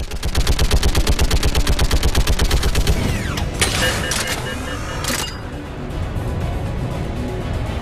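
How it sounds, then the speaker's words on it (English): A gun fires in the video game Mass Effect 3, a rapid, loud burst of evenly spaced shots for about three seconds, followed by sharper scattered blasts and game effects. "The shooting sound effect for this gun. It's fantastic."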